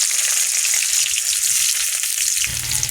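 Oil heating in a wok for a fish-head shukto, a steady bright sizzle running close and loud throughout, with a low rumble joining near the end.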